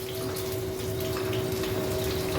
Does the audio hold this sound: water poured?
yes